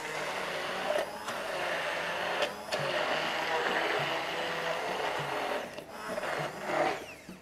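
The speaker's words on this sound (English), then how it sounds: "Now, blend this up." An electric blender whirring steadily as it blends butter and cream pâté, a constant motor drone with brief dips and changes in pitch as the mixture shifts.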